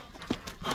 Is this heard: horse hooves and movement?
yes